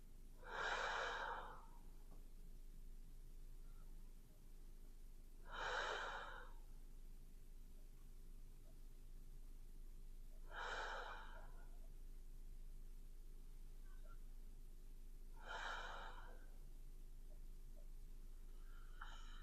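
Slow, steady breaths taken while lying in a chest-opening stretch, four long soft exhalations spaced about five seconds apart, close and quiet with no talking.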